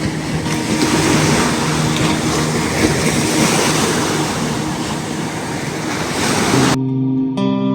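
Sea waves at Varkala Papanasam beach in Kerala, heard as a continuous loud wash of surf. The roar does not break for the whole stretch and ends abruptly.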